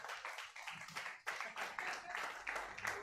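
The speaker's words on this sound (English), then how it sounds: "Please keep clapping until you receive the mic" Audience applause at an entrepreneurs' event in Ilorin, Kwara State, steady clapping from many hands sustained for about three seconds, fairly close and continuous with slight surges.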